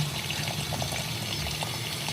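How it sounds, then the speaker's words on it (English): Cold water runs from a tap to wash a printed shirt, making a steady, even rushing hiss throughout with no talking. "we have cold water coming in."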